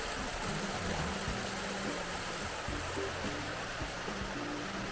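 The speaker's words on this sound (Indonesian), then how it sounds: "Nah ini sungainya guys." A river rushes steadily beside an outdoor riverside restaurant at Teras Gadog, Ciawi-Puncak, a dense continuous wash of water with faint low rumbles mixed in and no voices.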